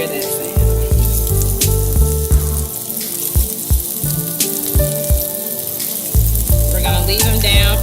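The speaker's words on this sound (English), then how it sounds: "You hear that nice sizzle?" Flour-dusted scallops seasoned with pepper sizzle loudly in a hot skillet, a close, steady crackling fry with rhythmic low thumps and clinks of kitchen activity throughout.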